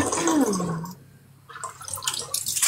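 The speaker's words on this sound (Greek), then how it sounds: "Ναι, μόλις πάει και κατουρά στον νεροχύτη." A man standing and urinating into a kitchen sink, a short splashing trickle of liquid followed by a quiet pause and then scattered clattering and dripping nearby, with no voices over it.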